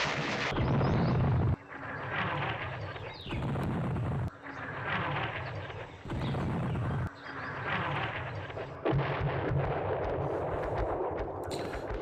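Artillery fire in the World War II strategy game Campaign Series Rising Sun: heavy, booming blasts repeat several times over twelve seconds, each followed by a long rumbling roll, loud and continuous with short gaps between volleys.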